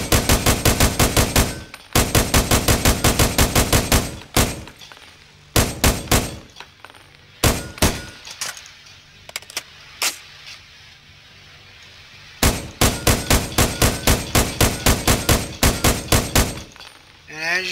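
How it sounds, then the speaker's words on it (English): Gunfire from the video game America's Army, fired at objects around a nurse's station: bursts of rapid automatic shots alternate with single cracks and short pauses, loud and close, with occasional impact clatter. "we can shoot up a few things here"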